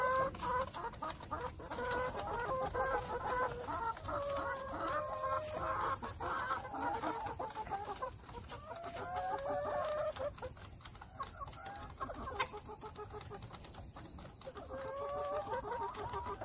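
Hens on a small organic home farm cluck in repeated, overlapping bursts for the whole stretch, fairly close, with no one talking.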